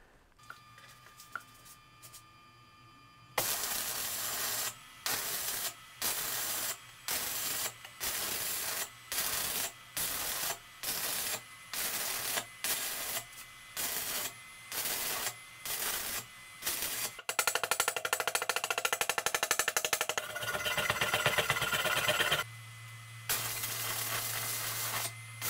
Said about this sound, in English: That part of welding is done.